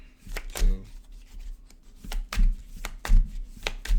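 Tarot cards shuffled up close, with several quick riffling bursts in an uneven rhythm and short pauses between them, heard alone without talk.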